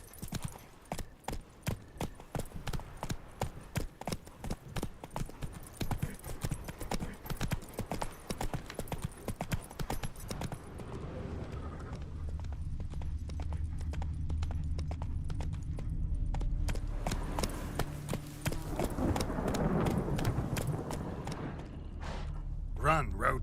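Horse Roach galloping in the video game The Witcher 3, rapid rhythmic hoofbeats that are loud at first, then fade into a rumbling wash of movement and ambience, with no voices.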